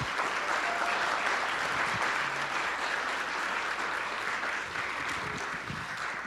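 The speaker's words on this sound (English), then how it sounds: "So let's once again give Nate a big round of applause for joining." Audience round of applause at a Kansas City Oasis talk, a dense, even wash of clapping from a sizeable crowd that holds steady and eases slightly toward the end.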